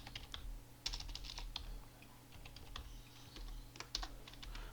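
Steady typing on a computer keyboard, with fast clusters of light key clicks and brief pauses, heard close but fairly quiet over a low hum and no speech.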